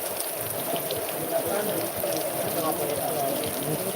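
Heavy rain pours down in a constant dense hiss of drops striking surfaces, loud and unbroken, with faint voices murmuring beneath it.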